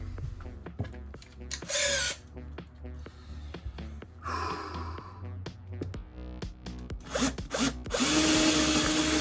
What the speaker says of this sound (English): I have to drill another hole in my beautiful countertop